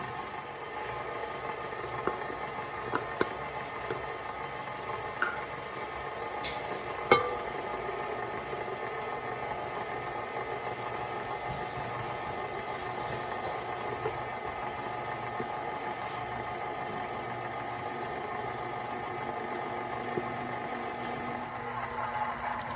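An electric mixer runs steadily while flour goes slowly into dough for Mexican wedding cookies (polvorones). The motor makes a continuous low hum with a few faint ticks and clinks on top.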